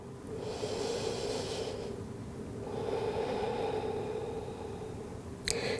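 Slow, deep breaths from someone resting in yoga child's pose, a long airy inhale followed by a steady exhale, close and soft against a quiet room hiss, with a faint click at the end.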